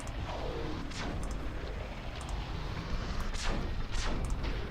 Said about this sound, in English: We've got cannon.